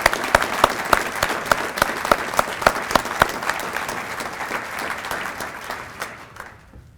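An audience at a 2013 police services awards ceremony applauds the field training officers. The clapping starts loud and dense with sharp individual claps, then gradually thins and fades out toward the end.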